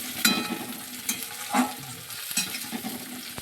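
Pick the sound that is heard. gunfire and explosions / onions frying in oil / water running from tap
onions frying in oil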